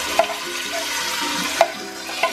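Chorizo cooked with tomato and onion frying in melted pork lard for pork beans, a steady close sizzle with a few soft stirring clinks and no talk.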